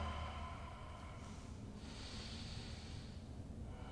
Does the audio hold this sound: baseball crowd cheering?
no